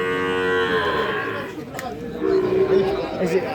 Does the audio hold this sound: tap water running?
no